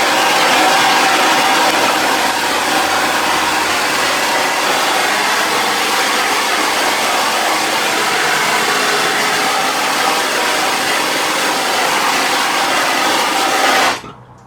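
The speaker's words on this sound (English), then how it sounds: "Now I need to be very careful with a hot torch like this." A gas torch roars steadily and loudly, heating a silver Viking Age armring held in tongs until it glows cherry red, with the flame cutting off abruptly at the end.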